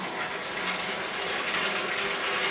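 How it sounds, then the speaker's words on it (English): Omega VRT330 juicer running with water poured through to rinse it, a steady close mechanical whir with gear-like ratcheting and watery splashing throughout, no voices. "you can just go ahead and turn the machine on"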